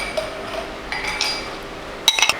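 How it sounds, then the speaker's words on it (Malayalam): Two ice cubes dropped into drinking glasses for raw mango juice, heard as a few sharp, bright clinks clustered near the end after a quiet stretch. "ഇനി ഗ്ലാസ്സിലോട്ട് നമുക്ക് 2 ഐസ് ക്യൂബ്സ് ഇട്ട് കൊടുക്കാം."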